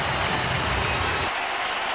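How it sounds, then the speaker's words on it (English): A basketball arena crowd erupts in a broad, steady roar of cheering and applause for Reggie Miller's first points in a 2005 playoff game against the Pistons, loud and continuous for the whole stretch. "To hear the roar of appreciation from the crowd out in the foyer"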